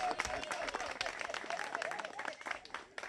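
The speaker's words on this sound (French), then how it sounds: "Applaudissez pour Passarella." Crowd applauding at a political gathering in Vombam, France, a dense wash of clapping with some voices mixed in, steady through the short stretch and moderately loud.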